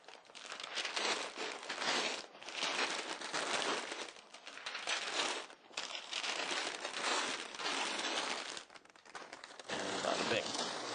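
Sheets of packing paper being crumpled and scrunched to wrap a glass bowl, a loud, steady crinkling that runs through most of the stretch in several bursts, with brief pauses between handfuls.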